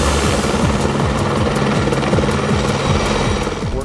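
Helicopter hovering close by during the rebuild of a collapsed power transmission tower beside a river and rail yard in Surrey, British Columbia, its rotor beating in a steady loud thump throughout with a constant engine drone.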